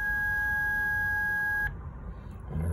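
A DoorKing 1802 telephone entry keypad gives one long, steady electronic beep after #0 is pressed. The beep cuts off sharply and leaves near silence.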